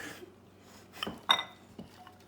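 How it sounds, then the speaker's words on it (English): A few sharp clinks of a utensil against a bowl while omelette ingredients and vegetables are whisked, spaced out and close, in a quiet kitchen. "So satisfying when you whisk up all the ingredients"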